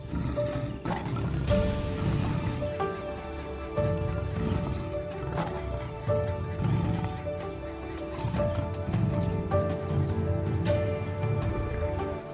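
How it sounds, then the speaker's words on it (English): A lion roars deep and long in the Ngorongoro Crater at sunset, the sound echoing off the steep cliffs. Heavy, rumbling bursts come one after another over a dozen seconds, loud and close, with no talk. "deep roars echo off the vertical cliffs"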